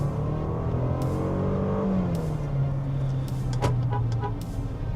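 Range Rover Velar 2-litre engine cruising in eco mode on a night drive, a low, subdued hum that drops in pitch midway, with faint clicks and thumps from the cabin and no talking.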